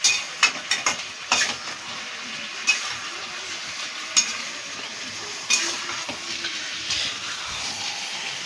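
A potato and pepper curry is stirred in a hot pan over a high flame after hot water is added, with a steady sizzle broken by sharp scraping clacks of a spoon against the pan.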